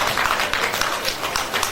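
Conference audience applauding during a livestock sector talk, a steady dense wash of many hands clapping at moderate level with no pauses, continuing throughout.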